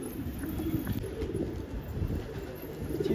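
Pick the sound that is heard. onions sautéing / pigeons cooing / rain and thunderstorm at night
pigeons cooing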